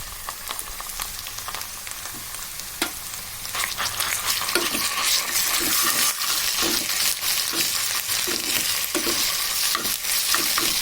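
Chicken pieces with ginger fry in a pan, a loud continuous sizzle with a spatula scraping and clinking in a steady stirring rhythm that grows louder partway through.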